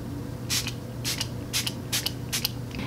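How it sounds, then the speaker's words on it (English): Five short hissing spritzes of Make Up For Ever Mist & Fix setting spray onto a face, evenly spaced and close by, over a low background hum. "I'm going to spray my face with my Makeup Forever Mist and Fix."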